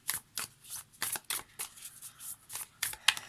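Tarot cards shuffled by hand at close range, a quick series of soft papery riffles and flicks in an uneven rhythm, with no voices over it.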